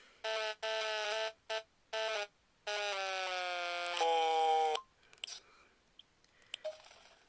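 Nintendo DSi Sound buzzer voice effect making a voice into a harsh, reedy electronic buzz in a few short bursts and then a longer held tone, followed by faint clicks and rustling.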